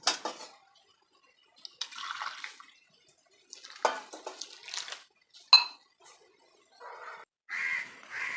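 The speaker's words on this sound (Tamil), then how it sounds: "அன்னக்கரண்டி மாதிரி அன்னக்கரண்டி இருந்தால் கூட இதை போட்டு கிளறதுக்கு வசதியாக இருக்கும்" Ladle stirring rice dough in a pot, a series of intermittent scraping and clinking strokes separated by short pauses.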